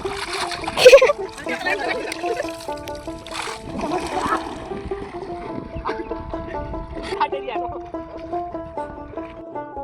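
Girls wade through river water, and a sharp splash near the start is followed by lighter sloshing, while people talk throughout.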